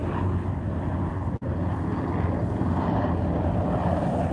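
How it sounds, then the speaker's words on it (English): Military helicopters flying low overhead near the Golden Gate Bridge, a steady loud rumble of rotors and engines mixed with wind buffeting on the microphone, continuous throughout with one brief dropout. "Oh my God, there are helicopters. Are those military?"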